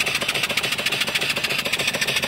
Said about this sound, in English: I'm just running it off of one of my 12-inch boilers.